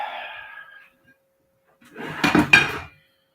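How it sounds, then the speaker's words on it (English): A frying pan is pulled out among other pans and cookware, giving a short burst of metallic clattering and clinking after a quiet pause, close and moderately loud, with no talk over it. "Let's get a frying pan."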